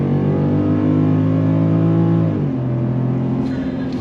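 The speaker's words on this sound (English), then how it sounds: "We're in this V8 powered F-150. If you're ready, I'm ready. On throttle," A 2024 Ford F-150 pickup with a Coyote V8 revs hard under throttle, a loud steady engine roar rising in pitch, then dipping into a gear change and climbing again, close and continuous with no talk.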